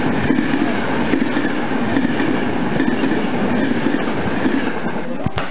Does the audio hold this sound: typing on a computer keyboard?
no